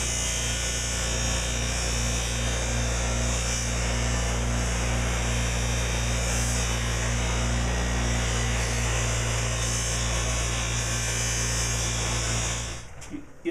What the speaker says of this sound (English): I got this buffer 20 years ago probably from Harbor Freight